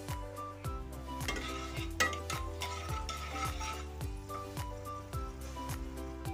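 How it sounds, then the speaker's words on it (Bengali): Two bay leaves, three dried red chillies, whole garam masala and pieces of mace sizzling in hot oil as a tempering, a faint soft crackle with regular light stirring scrapes running throughout. "এই গরম তেলের মধ্যে দিয়ে দেব 2টো তেজপাতা, 3টে শুকনো লঙ্কা, অল্প করে গোটা গরম মশলা আর কিছুটা পরিমাণে জয়িত্রীর টুকরো ফোড়নের জন্য দিয়ে দিলাম"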